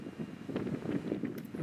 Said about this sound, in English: you can just see those trees just blowing so hard in the wind in the background there. It was a very windy day.